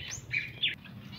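Pet birds sing in a home aviary where a yellow goldfinch serves as the caller bird, with two or three short, bright chirps and whistles heard close up over quiet background.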